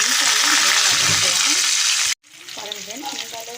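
Onion, garlic and dried chillies sauté with lentils and peanuts in hot oil for lemon rice. The oil gives a loud, continuous sizzle with stirring scrapes, which drops out briefly before the frying resumes more softly.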